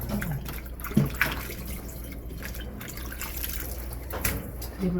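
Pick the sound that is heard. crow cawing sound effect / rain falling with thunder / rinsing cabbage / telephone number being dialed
rinsing cabbage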